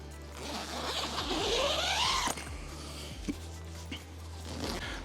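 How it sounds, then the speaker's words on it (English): A zipper on the bottom of a bag is pulled in one long rasping stroke, followed by a few shorter clicks and tugs, close and clear. "Two zippers at the bottom."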